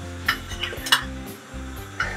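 Ghee sizzling in a heated frying pan: a soft, uneven hiss with a few brief crackling pops over a steady low tonal background, close and fairly quiet.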